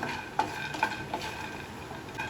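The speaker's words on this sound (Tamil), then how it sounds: "இந்த மாதிரி கைவிடாம வறுத்துக்கிட்டே இருந்தீங்கன்னா அப்படியே பட்டு பட்டுன்னு சவுண்டு கேட்கும்" Raw peanuts are dry roasted in a pan while being stirred continuously. Soft scraping and scattered light rattling knocks come close by and fairly faint, with no voice.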